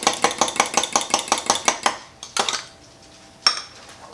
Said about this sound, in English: we're going to give that a stir with our fork